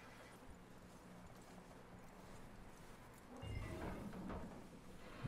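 Horse hooves clip-clopping with a brief whinny in the Red Dead Redemption 2 video game, a steady low clatter that grows louder and busier in the second half, with no talk.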